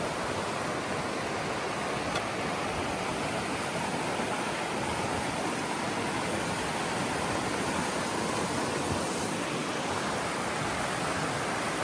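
Rushing water of the Peabody River heard from a suspension bridge, a broad, constant hissing roar that stays loud and unbroken throughout with no voices.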